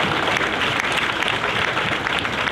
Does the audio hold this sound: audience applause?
yes